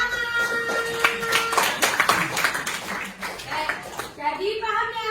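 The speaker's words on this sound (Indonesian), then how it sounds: "Sudah, Tepuk tangan." Children in a classroom clap their hands briefly, an uneven burst of claps mixed with kids' voices, followed by a teacher and children talking.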